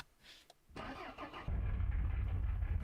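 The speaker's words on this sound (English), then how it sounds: "Okay, engines on." Truck engine in a race car building game, cranking briefly before catching and settling into a loud, steady low idle that runs on to the end.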